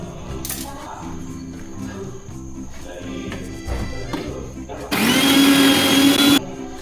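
Mixer grinder chopping tulsi and herbs for homemade hair oil, a loud high whirring burst of about a second and a half after quieter clattering and handling, with a voice talking earlier.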